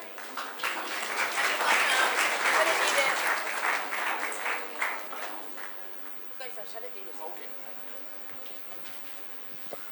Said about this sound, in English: A big round of applause to him.